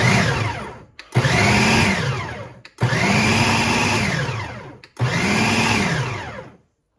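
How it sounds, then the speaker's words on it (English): A food processor or blender pulses beef ravioli filling made of meat and cheese, running in four loud, close bursts of whirring, each winding down before the next starts. "We're going to pulse this up and blend all the ingredients and bring it to a smooth, meaty, cheesy consistency."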